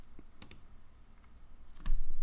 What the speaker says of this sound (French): Touche retour chariot sur le clavier.